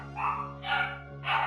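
Three short barks from dogs sound at a moderate distance, evenly spaced in a brief burst over a steady low background hum.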